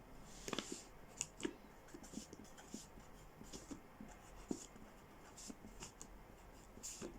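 Marker or chalk strokes as a matrix example is written on a board in a lecture, faint short scratches and taps in irregular bursts, with quiet room tone and occasional voice.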